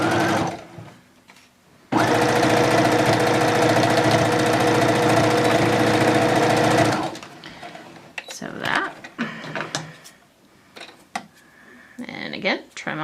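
A sewing machine stitching fabric for a headband bow, running loud and steady for about five seconds up close, followed by quieter handling noises and faint talk.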